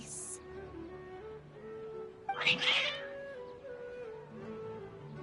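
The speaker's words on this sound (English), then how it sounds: "Why are the cats meowing?" A cat meows in the video game Genshin Impact, one short wavering cry in the middle over a quiet background drone of game music.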